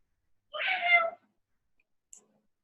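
A child imitates a cat with a single clear, close meow lasting about half a second, followed by silence and one tiny click.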